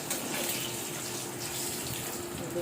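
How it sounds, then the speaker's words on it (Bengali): An egg fries in a pan, giving a dense, even hiss of sizzling oil that holds steady and fairly faint throughout, with no voices. "ডিমটাকে ভেজে নেব।"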